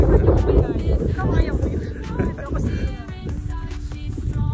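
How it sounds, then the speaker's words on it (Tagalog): Strong wind buffets the microphone in a continuous low roar on the summit of Mount Kulis in Tanay, Rizal, with a voice speaking over it. "Lakas ng hangin"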